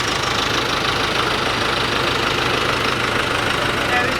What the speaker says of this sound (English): This is the third time Burns been stuck in the exact same hole, in the same JCB, doing the same thing